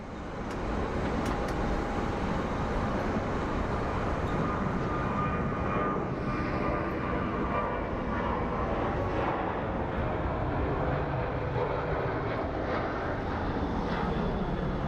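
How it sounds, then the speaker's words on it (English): An American Airlines airliner taking off late down most of the runway at Phoenix Sky Harbor International Airport, its jet engines a broad, steady roar heard from a distance, continuous and unbroken with no talking. "A very late takeoff for the American Airlines. He used most of the runway too"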